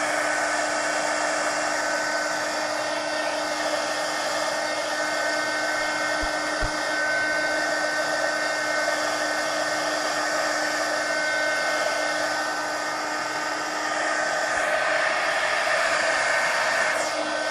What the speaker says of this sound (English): Let me hit that with the heat gun again.